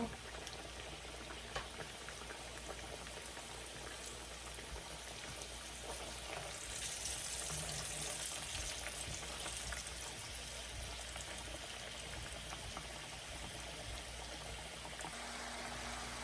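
Potatoes deep frying into French fries give a steady, low-level bubbling hiss of hot oil that goes on throughout, fairly quiet and even, with a little background noise and no clear speech.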